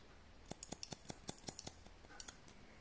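Barber's scissors snip through hair during a haircut at a barbering event in London, a quick run of about a dozen crisp metallic clicks in an irregular rhythm, close and fairly quiet with no talking.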